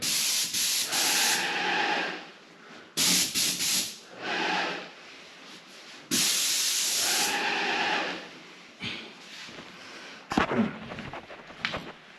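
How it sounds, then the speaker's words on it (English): Bursts of hissing spray from a paint sprayer coating a ceiling, several long passes separated by short pauses, close and fairly steady. "Obviously spraying on the ceilings."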